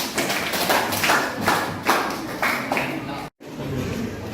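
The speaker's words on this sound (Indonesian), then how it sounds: "Tepuk tangan semuanya." Applause in a classroom, a scattered run of claps from students lasting a few seconds, cut by a brief dropout near the end, with room noise continuing after.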